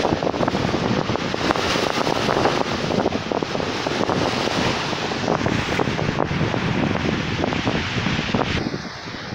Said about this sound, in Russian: а тут прямо вам нешуточные волны, посмотрите.